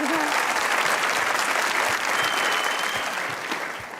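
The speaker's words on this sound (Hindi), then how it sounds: "तालियां बजाएं भाई" A studio audience at a Pakistani comedy talk show claps steadily and loudly throughout, a dense continuous wash of applause that fades a little near the end.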